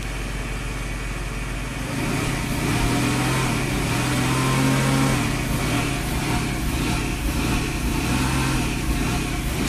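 A Mercedes car with a faulty throttle body revs up when gas is applied, the engine rising from a low idle into a louder, sustained hum and then settling back slightly.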